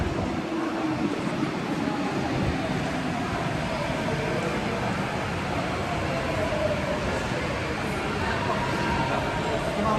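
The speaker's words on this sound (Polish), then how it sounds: "przyjechał pociąg metra" A Paris metro train pulls into a line 14 platform with a continuous rumbling roar and station hum lasting the full ten seconds, while faint background voices mix in.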